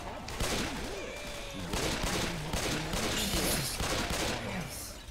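Rapid bursts of gunfire in Left 4 Dead 2 as players shoot at a jockey, a dense crackling fusillade running throughout the clip while someone talks over it.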